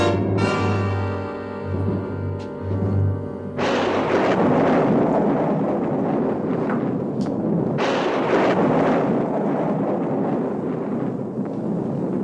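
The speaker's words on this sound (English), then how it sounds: "You're blowing up a big one out there." A large blast goes off in a western-era outdoor setting with a sudden loud broadband roar that rumbles on for several seconds, after a sustained low tonal hum, with further rolling bursts following.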